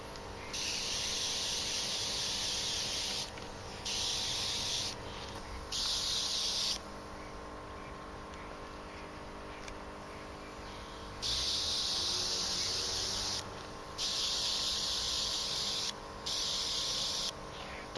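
A Rexley Rhinowisdom airbrush sprays model paint, with bursts of soft hissing spray that start and stop repeatedly, some short and some several seconds long, over a faint background hum.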